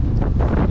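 Steady, heavy wind buffeting a microphone outdoors on a bike path, a loud low rumble with gusty swells and no voices.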